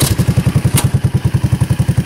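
A Honda 200s motorcycle engine fires and settles into a steady, rapid thumping idle, loud and close, with a brief higher clatter early on.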